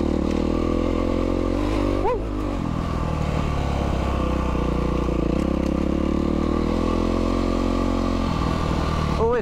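A Yamaha WR450F dirt bike engine runs continuously on a trail ride, a loud rough drone with brief rises in revs, joined by scraping and clattering.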